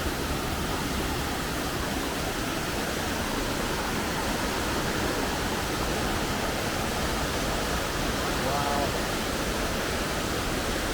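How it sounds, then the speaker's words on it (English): Many small jungle streams and little cascades running down beside a river in Colombia, a steady, dense rushing wash of water that stays even throughout with no break. "There's a bunch of little cascadas, too many to count. Just little streams coming down here."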